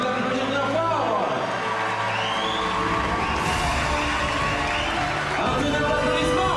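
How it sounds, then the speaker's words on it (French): Cheering crowd at the Miss Saône-et-Loire 2014 pageant welcomes the winner with loud clapping, shouts and whoops mixed with music and voices, a dense continuous roar. "Un tonnerre d'applaudissements."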